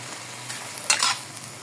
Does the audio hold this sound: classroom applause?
no